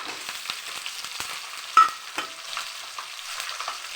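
Garlic and onions frying in a pan for avarakkai kara kuzhambu, a bright, crackling sizzle with light scraping and one sharper tap partway through, close and steady, without voices.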